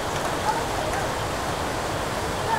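Heavy rain pours steadily during a flood, a dense, even hiss of rainfall on surfaces with a couple of faint bumps, constant and close.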